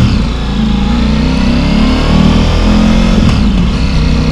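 A Ducati Pikes Peak motorcycle fitted with an Akrapovic full titanium exhaust rumbles loudly and steadily close by, its engine note rising and falling slightly, with a car also nearby and no voices.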